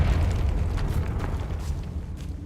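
Confringo blasting spell going off in Hogwarts Legacy, a loud, sustained roaring blast with heavy low rumble that holds steady and slowly fades over a couple of seconds, with no voices.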